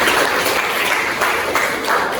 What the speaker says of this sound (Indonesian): berikan aplaus untuk Nadine